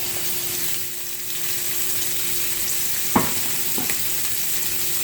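Scallops sear in a hot pan with a steady, even sizzle that fills the clip, first batch cooking alone with two brief sharper crackles partway through.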